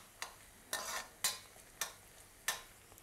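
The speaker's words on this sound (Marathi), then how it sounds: "आपण याला परतून घेऊ." Onions being sautéed in a pan for kanda poha: five rhythmic stirring scrapes, each with a brief burst of sizzle, over a faint steady hiss.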